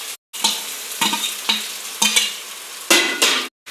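Washed mutton being mixed with turmeric and spices in a bowl, giving a series of wet squelching and scraping strokes in a steady rhythm, close and fairly loud, with no voices.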